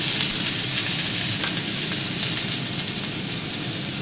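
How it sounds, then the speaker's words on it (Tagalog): Beans sautéing in a hot pan give off a loud, steady, close sizzle with a bright, crackling hiss that holds evenly from start to end, with no talking over it. "Gisa tayo ng beans"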